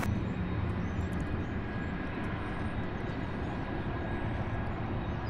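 Jet airliners, Boeing 767s and an Airbus A300, taxi at Louisville International Airport's UPS Worldport, a steady loud engine rumble and whine holding at a distance without pause.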